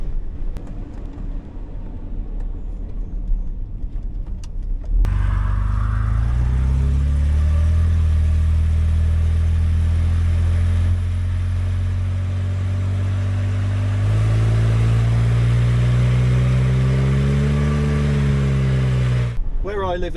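A 1968 Jaguar S-Type pulls out of a corner: after a quieter opening, its engine settles into a steady, loud in-cabin drone, then climbs in pitch as it accelerates before easing off near the end.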